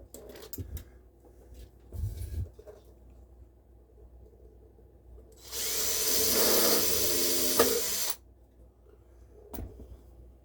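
A single burst of power drilling into a plastic Tamiya model truck cab part, about three seconds long, starts abruptly and cuts off, with quiet handling knocks before and after.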